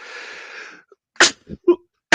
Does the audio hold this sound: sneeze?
yes